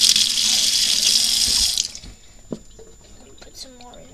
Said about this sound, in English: Wash off my hands.